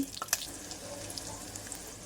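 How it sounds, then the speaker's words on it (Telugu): Soft, steady sizzling of garlic frying in ghee, a quiet crackling hiss with a couple of brief clinks near the start. "వెల్లుల్లిపాయలు వేద్దాం. వెల్లుల్లి కొంచెం వేగాలండి."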